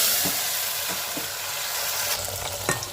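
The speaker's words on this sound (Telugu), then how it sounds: "పచ్చిమిర్చి ఉల్లిపాయ పచ్చిమిర్చి వేసుకుని టమాటా కూడా వేసేసుకొని ఫ్రై చేసుకుంటాం" Green chillies, onion and tomato frying in a pan after cumin and mustard seeds, a dense continuous sizzle with a few stirring knocks and scrapes near the end, close and unvoiced.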